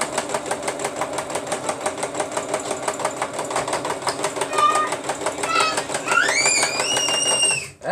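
A sewing machine stitches down a stove towel with a steady, rapid mechanical chatter that runs without a break. A few high chirping tones enter near the end.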